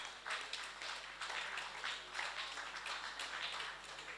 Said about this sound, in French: Est-ce qu'on peut applaudir très très fort pour Monsieur Jeannot Binanou pour cette œuvre?